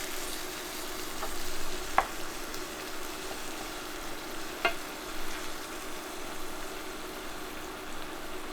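Squash sizzling and frying in a pan, a steady close crackle and hiss with two brief sharp clinks of a utensil against the pan, no talking.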